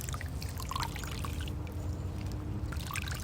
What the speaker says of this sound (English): I normally do like 3 or 4 dips. So squeeze it out.